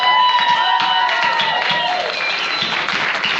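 Audience applause and cheering at a Texas Speaker of the House debate, a dense, loud, continuous wash of clapping with some whoops, heard close throughout.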